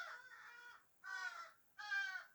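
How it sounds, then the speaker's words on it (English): Crows cawing just outside a window, three drawn-out harsh caws spaced about a second apart, fairly faint and alone with no talk. "Crows."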